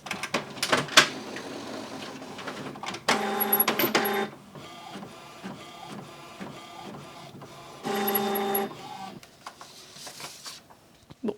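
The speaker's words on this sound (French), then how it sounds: "L'imprimante m'a imprimé sans que je lui ai rien demandé." Home inkjet printer running a page by itself, with mechanical whirring passes and ticking feed clicks, two louder bursts of carriage motion between quieter rhythmic shuffling, close and alone.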